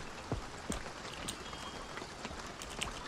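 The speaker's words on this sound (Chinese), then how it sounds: "下雨了，这个城镇非常的大" Rain patters through a large town in a zombie survival train game, a soft steady hiss with scattered sharper droplet ticks, fairly quiet and continuous, with no talking over it.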